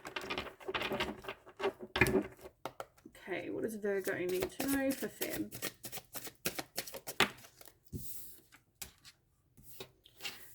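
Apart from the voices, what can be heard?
shuffling tarot cards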